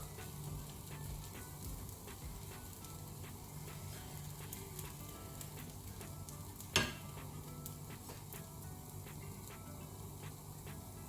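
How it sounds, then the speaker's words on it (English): An oats dosa cooks on a pan after being flipped, with a soft, faint, even sizzle and light ticking, plus one sharp click partway through. "Flip it. Again, wait for it to cook"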